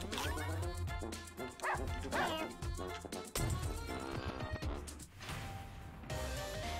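Cartoonish dogs bark repeatedly in the video game Russian Subway Dogs, mixed with bright game music and effects, while a voice talks over the gameplay.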